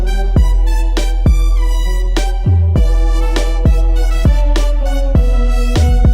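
Synth notes with a short pitch glide in a beat-making session, loud punchy repeated bass-heavy hits with bright tones sliding into each note in a steady rhythm.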